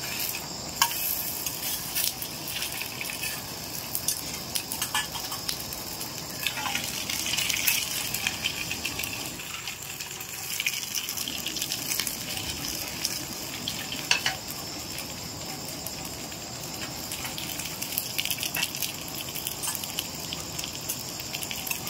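A semolina breakfast snack fries in a pan with a steady, crackling sizzle that carries on for a long stretch, close and moderately loud, with occasional clinks.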